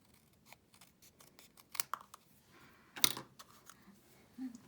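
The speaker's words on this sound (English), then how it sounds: "I find my scissors. I'm just going to chop that little extra piece off." Scissors snip through a small extra piece of paper at a papercraft table, giving a few crisp, close cutting clicks amid light handling rustles, with one sharper cut standing out.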